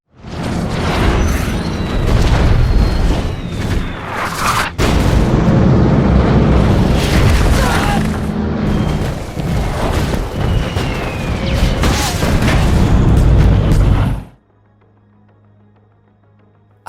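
Loud, continuous barrage of film explosions and rumbling booms from bombs dropped by dozens of Allied aircraft, dense and chaotic, cutting off abruptly into near silence with a low hum.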